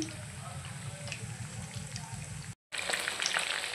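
Chicken pieces fry in a pan over low gas for a spicy chicken fry, giving a steady, close, bubbling sizzle that cuts out for a brief moment before resuming.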